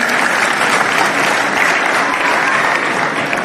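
An audience at a reunion gathering claps together in a dense, steady burst of applause that holds at an even level throughout.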